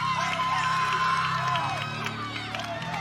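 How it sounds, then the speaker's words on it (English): A crowd at an NCAA gymnastics meet chanting ISU for Illinois State, a rhythmic, sustained group chant heard at a distance across the arena with a commentator's voice over it. "There's a ISU chant happening from the crowd behind us right now"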